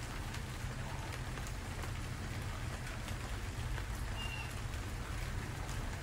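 Steady rain falls on a sunny day in a tropical setting, a dense, even hiss of drops on surfaces with a low rumble underneath, continuous throughout and heard alone without talking.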